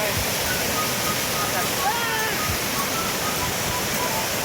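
Beside a glacier in Alaska, a waterfall roars as a steady, dense broadband rush, loud and continuous throughout with no breaks.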